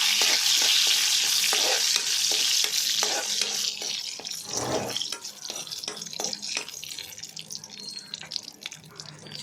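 Bay leaf and dried red chillies fry in oil with a loud, bright sizzle that fades over several seconds, while a spatula taps and scrapes the pan in an uneven rhythm.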